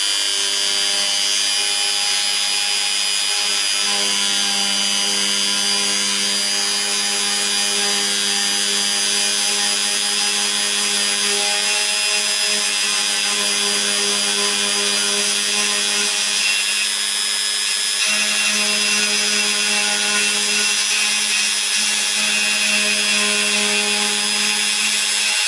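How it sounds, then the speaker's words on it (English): A Dremel 4000 rotary tool cuts into wood with a steady, loud, high-pitched whine that runs continuously, shifting slightly as the bit bites into the workpiece, with no talking. "So if I turn the Dremel on, it's going to get a bit noisy now."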